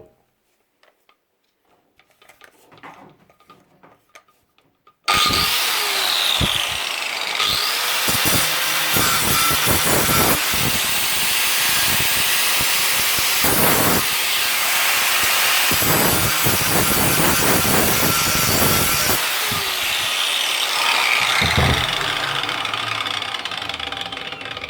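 A Parkside PWS 125 D3 angle grinder grinding: a few quiet clicks and knocks come first, then the motor suddenly starts and a loud, harsh, sustained whine and grinding roar holds steady for about twenty seconds, close up, with no talking.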